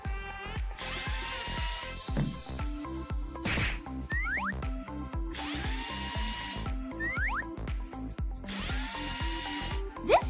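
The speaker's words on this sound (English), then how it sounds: "This drill works great." Power drill driving screws into a wooden frame in repeated whirring bursts with rhythmic pulses, mixed with bouncy boing-like effects and upbeat background music.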